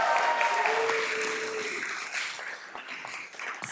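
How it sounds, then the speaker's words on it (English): Applause fills a city council chamber in Oceanside after a Pride by the Beach anniversary mention, a sustained crowd clapping that slowly thins and fades, with a faint tone early on. "I think that deserves an applause."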